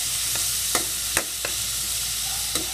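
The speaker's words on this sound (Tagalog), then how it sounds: "Ayan, gigisa lang yan." Squid adobo ingredients sautéing in a pan, a steady close sizzle broken by a few sharp clicks and scrapes of stirring utensils.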